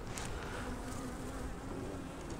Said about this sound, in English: there's a lot of bees on it.